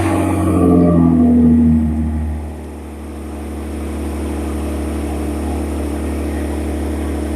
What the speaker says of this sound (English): She's using my car, which is really loud because it's old.